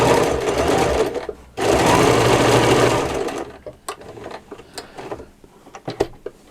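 Sewing machine stitching patchwork for a hand-embroidered picture, heard as a loud, close burst of fast needle chatter and motor whir, a short break, then another burst of about two seconds, followed by scattered light clicks and handling taps.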